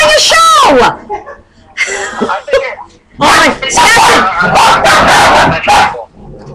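A dog barks and yips in loud bursts close by, overlapping with talk that runs through most of the clip.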